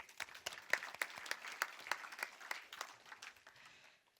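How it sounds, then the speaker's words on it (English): Sparse, quiet applause from an audience at an evening film program event: distinct individual claps patter irregularly, a little distant, then thin out and fade. "so we could clap for them"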